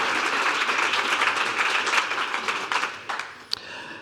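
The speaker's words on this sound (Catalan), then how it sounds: "Podem aplaudir, podem aplaudir, un aplaudiment." Audience applause at an institutional event for autism awareness, a dense, steady crowd clapping that fills the room and fades slightly toward the end, with a few sharper claps standing out.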